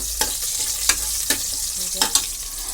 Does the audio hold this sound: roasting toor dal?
yes